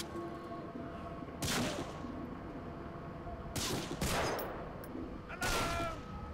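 Gunfire in Medal of Honor Frontline, three separate bursts of rapid automatic shots spaced a couple of seconds apart over a low background hum.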